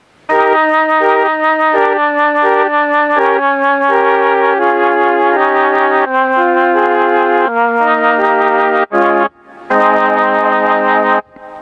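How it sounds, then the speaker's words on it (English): A mellotron-style flute patch on a Korg KingKORG analogue modelling synthesizer plays a slow sequence of sustained, breathy chords, steady and close, pausing briefly near the end before one last held chord. "So we can replicate this kind of mellotron flute sound,"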